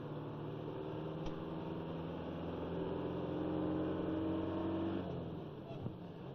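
A 1970s Mercedes 1617 truck engine pulls after a range change into fifth, a steady mid-loud diesel drone that rises slightly in pitch as it accelerates, with someone talking over it.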